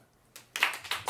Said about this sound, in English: If the live audience could clap.